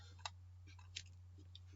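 A few sharp, isolated mouse clicks while working in accounting software, quiet and separated by pauses over a steady low electrical hum.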